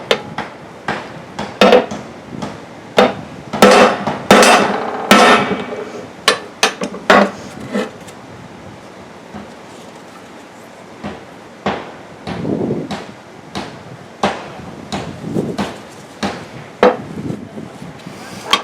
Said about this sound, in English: Let's try a bigger hammer.